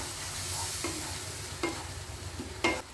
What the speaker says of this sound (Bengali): মশলাগুলো একটু ভালোভাবে ভাজা হয়ে যাবে